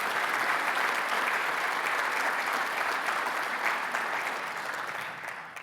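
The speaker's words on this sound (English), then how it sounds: "Let's give this group a really great round of applause" A conference audience applauds a team with sustained, even clapping that fills the room, then begins to taper off near the end.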